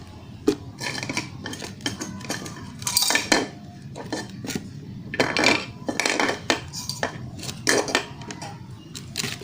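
Utensils clink and scrape against a container as a fermented Japanese satoimo taro mixture is spooned in, giving irregular close metallic taps and scrapes with no talk.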